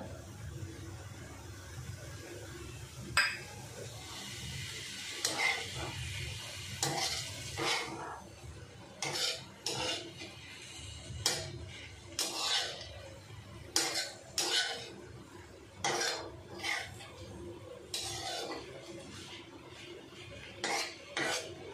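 Grated coconut stirred into a dill and moong dal sabzi in a pan, with repeated spoon scrapes and clinks on metal over a low sizzle, steady and close.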